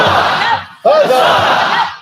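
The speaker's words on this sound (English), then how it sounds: "Cheer the guild. 3 cheers." A crowd at a medieval royal court gathering shouts loud, massed cheers for the guild, two bursts separated by a brief pause, with voices overlapping in a ragged roar.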